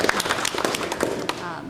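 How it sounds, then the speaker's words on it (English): Brief, dense applause at a public session meeting, with many hands clapping at once in a close, busy burst and voices mixed in. "if you would indulge me with a round of applause for these people"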